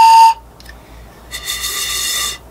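A short homemade drinking-straw pan flute tube gives a high breathy whistle-like note, a clear tone at the start, then a sustained airy blown note up close with no talk.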